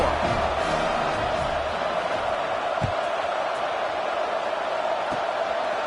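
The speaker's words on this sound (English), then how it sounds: "this crowd is buzzing after that last score" Football stadium crowd buzzing near the end of the first half before a kickoff, a steady broad roar filling the background with a couple of brief thumps, no clear talk over it.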